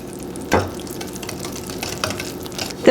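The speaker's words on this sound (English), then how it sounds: "And we're going to give that a good stir." A batter of orange juice, milk and flavourless vegetable oil for cranberry orange quick bread is stirred in a bowl, giving a steady wet swishing with a couple of sharper knocks of the utensil, close by and with no talk.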